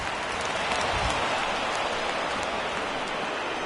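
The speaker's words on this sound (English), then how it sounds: "the conditions aren't ideal with the rain coming down" Rain falls steadily on a baseball field during a game, a dense, even hiss that fills the whole stretch at a constant level with no talk over it.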